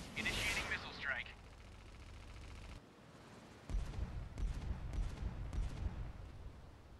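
A naval missile strike in World of Warships Mobile: after a brief hush, a rapid string of heavy booming bursts and rumbling impacts pounds in a fast rhythm, loud and close, with some talk mixed in.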